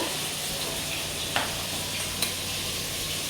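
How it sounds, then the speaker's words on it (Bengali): Fish frying in a pan on a home kitchen stove gives a steady, soft sizzling hiss that runs without a break, with two brief sharp ticks partway through and no talking. "এখন মাছটা ভাজাও"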